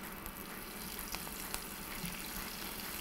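Falafel balls sizzling in hot oil at about 350 degrees, a steady dense frying hiss with a few soft pops and spatters, close and continuous with no talk.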